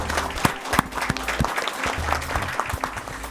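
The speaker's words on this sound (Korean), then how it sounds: "우리 박수 한번 드릴까요?" Applause at a South Korean cabinet meeting welcoming the new prime minister, a small group clapping with distinct individual claps standing out, fairly close and moderately loud, with a voice briefly speaking underneath.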